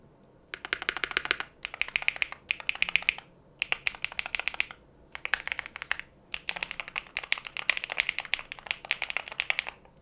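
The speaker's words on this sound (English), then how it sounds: "I am going to press some keys, so basically you guys can hear how the keyboard sounds like" Rapid typing in bursts on a CHILKEY Slice75 HE magnetic keyboard, crisp clacky keystrokes with short pauses between runs, close and fairly loud, no voices.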